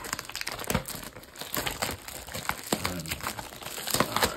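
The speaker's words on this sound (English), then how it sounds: "So let's get right into this box." Crinkling and tearing of foil booster packs from a Magic: The Gathering Kamigawa: Neon Dynasty booster box, steady close rustles and crumpling with sharp tears, no talking.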